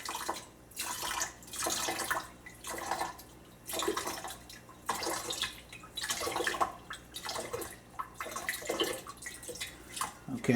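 Hydrochloric acid is rinsed through a metal strainer during platinum refining from a stock pot, making repeated close splashing pours in short bursts with brief pauses between them.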